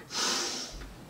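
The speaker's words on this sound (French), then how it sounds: "On inspire." A single long, breathy inhalation during a gentle exercise class, heard close and alone, rising quickly and then holding steady before it fades out.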